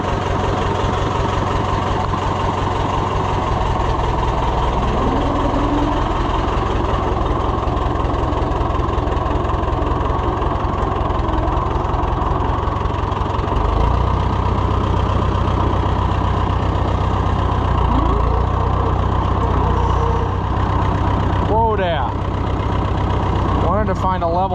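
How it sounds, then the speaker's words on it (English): A small Oliver 600 high-crop tractor's diesel engine idles steadily close by for the whole stretch, a low even rumble with slight shifts in pitch and a few brief creaks and bumps near the end. "Those little diesels, they're pretty sweet."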